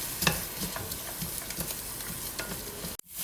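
Onions sauté with salt in a pan for tomato rice, a soft sizzle with rhythmic spatula scrapes and taps, cutting off abruptly near the end.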